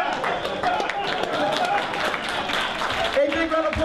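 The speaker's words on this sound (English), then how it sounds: "A big round of applause for Wade, everyone." An audience at a comedy magic show claps for a volunteer, a dense and steady patter of hands that holds throughout at moderate loudness, with voices mixed in.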